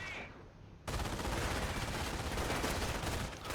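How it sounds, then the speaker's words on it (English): An MG42 machine gun firing in the World War II strategy game Company of Heroes. A quieter lead-in gives way to a loud, dense, continuous burst that rattles on without a break until the end. "And finally getting his MG42 out."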